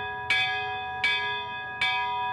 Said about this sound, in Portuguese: 7:30 da noite e os sinos anunciam.